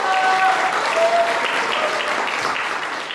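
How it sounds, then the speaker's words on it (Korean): Applause for the groom at a wedding ceremony in a hotel hall, a dense, steady burst of clapping from the guests that lasts throughout and slowly fades. "큰 박수 부탁드리겠습니다"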